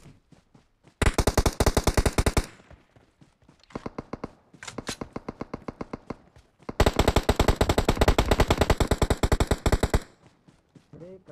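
Rapid automatic gunfire in PUBG Mobile on the Erangle map, with two long sustained bursts and a shorter, sparser volley between them, loud and close with no talk over it.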